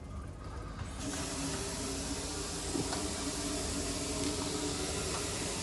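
A Vaillant combi boiler producing hot water ignites with a sudden jump into a steady, broad hissing rush of gas and water that carries on evenly.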